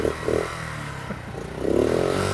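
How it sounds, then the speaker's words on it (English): A small motorcycle engine revs steadily while the clutch is gently feathered, a close, continuous mid-pitched drone that swells and eases with the throttle, with a little mechanical clatter in the workshop. "Feather the clutch, plenty of revs."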